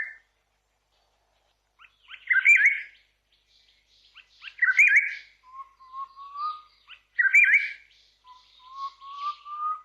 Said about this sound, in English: Today's bird call was the Chorister Robin-Chat.